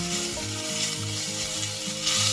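Onions, curry leaves and turmeric fry in hot oil in a pan for potato masala, a steady close sizzle with rhythmic stirring scrapes repeating across the whole short stretch.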